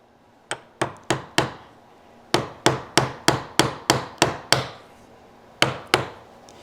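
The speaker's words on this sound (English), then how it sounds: "Now as you chop, you got to hold the guideline" Chisel struck by a mallet chopping a mortise in wood for a wedged mortise and tenon joint: sharp, loud, close knocks in bursts of three, then eight, then two, each with a short woody ring and no talk.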